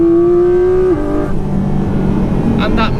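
A Porsche GT4 RS engine revs high on a bumpy country road, a loud sustained metallic tone climbing in pitch before a shift, then settling into a lower drone with road noise.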